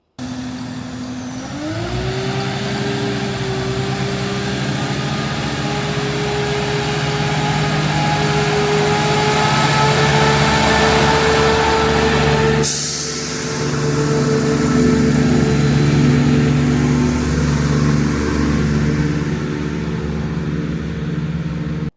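A Class 170 diesel multiple unit, 170-502, pulls out of Attenborough station, its engine note climbing early and then settling into a loud, sustained drone with layered tones that dips briefly midway before resuming.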